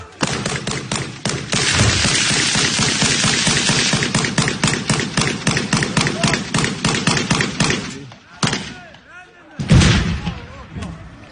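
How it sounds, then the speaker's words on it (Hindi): Rapid bursts of automatic gunfire from Ukrainian soldiers in combat, loud dense rattling shots continuing for several seconds, then a pause and a few heavier isolated reports, with talk over it. "यूक्रेन के सैनिक रूस के ऊपर लगातार गोलीबारी कर रहे हैं।"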